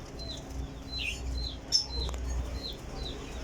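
At a loft of champion racing pigeons, short rising bird chirps repeat every half second or so, fairly faint, over a low steady rumble, with one brief sharp tap partway through.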